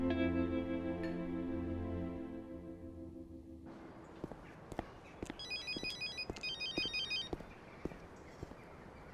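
A phone rings in a home in a drama scene: a short burst of electronic ringing tones after fading music, with faint footsteps and light knocks around it.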